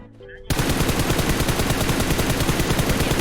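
Sustained automatic gunfire in PUBG Mobile, loud and close, a rapid unbroken burst of shots running for about three seconds after a brief quiet opening.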